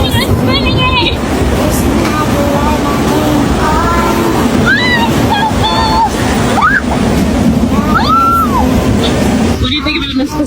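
Cold Pacific Ocean waves washing onto the shore, a loud continuous surf roar with wind, while people talk and call out over the water.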